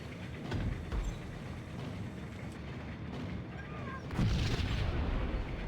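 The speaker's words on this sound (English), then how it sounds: "So I could throw a grenade in the room." A grenade blast in the video game Max Payne, heard as a deep low boom with rumbling tail that swells again near the end, among other game noise.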